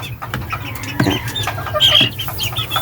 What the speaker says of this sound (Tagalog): Mababait yung aking sisiw.